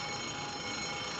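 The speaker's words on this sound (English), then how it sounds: "Sound the alarm." Warship alarm in a 1956 war film battle scene, a steady, unbroken electric ringing tone that stays level and moderately loud throughout, with no voices.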